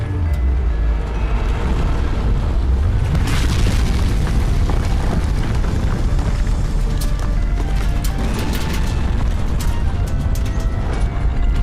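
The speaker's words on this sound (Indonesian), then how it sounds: "terdengar suara dentuman yang sangat keras disertai dengan guncangan yang" A mountain top crashes to the ground with a deep, loud boom, followed by a sustained heavy rumble and scattered crackling impacts that carry on throughout.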